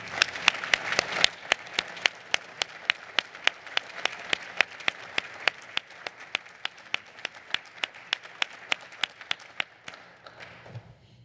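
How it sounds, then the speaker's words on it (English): Audience applause at a surgical endowed chair installation ceremony, a steady run of crisp, evenly spaced claps that thin out and fade near the end, with no voices over it. "Let's stop the applause now."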